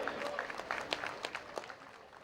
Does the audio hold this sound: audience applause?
yes